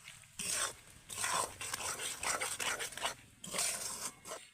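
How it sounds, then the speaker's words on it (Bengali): Peanuts are stirred through hot sugar syrup in a pan for badam chikki, a spoon scraping and clattering in repeated bursts with short pauses between strokes, close and fairly soft, with no talking. "এই বাদামগুলো চিনি রসে দেওয়ার পরে ভালো করে কিন্তু এইভাবে একটু নেড়ে চেড়ে নিতে হবে"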